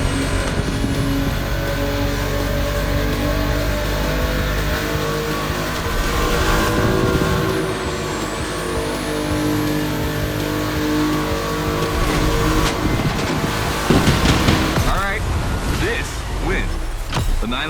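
A Porsche 911 engine revs hard in The Crew Motorfest, loud and close, with rising and falling tones and gear shifts over a constant roar, and a voice talks over it.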